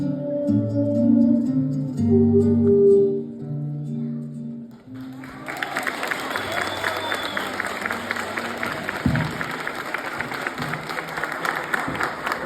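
After a sung line fades, an audience bursts into applause for a young girl's performance, steady clapping with some crowd murmur that continues loudly to the end.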